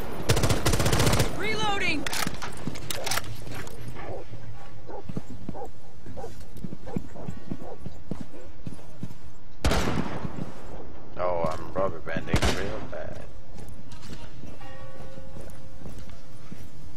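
Rainbow Six gunfire, with sharp bursts of close shots scattered through steady game noise, a barking and whimpering dog in the mix, and people talking.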